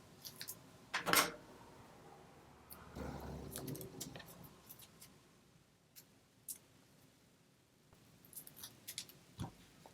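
Scissors snip through cardstock while a birthday balloon card is being made, a short sharp burst of cutting followed by scattered quieter clicks and rustles of paper handling, close and fairly soft.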